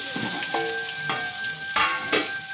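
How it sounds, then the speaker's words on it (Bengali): Flat beans and cauliflower fry in a hot pan for a vegetarian winter pilaf, giving a steady close sizzle with a few louder bursts of stirring and spatula scrapes. "আর্ধেক দেবো পুরো দেবো না সিম আর ফুলকপিটা হাফ দেব হাফ দিয়েছি"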